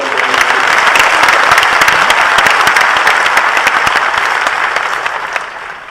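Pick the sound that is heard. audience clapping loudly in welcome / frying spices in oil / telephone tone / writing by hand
audience clapping loudly in welcome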